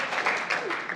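Brief burst of crowd clapping at a graduation ceremony, fairly close, with a voice briefly audible in the mix.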